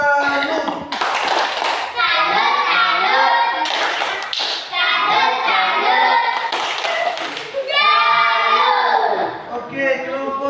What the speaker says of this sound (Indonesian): kita tepuk salut untuk kelompok tiga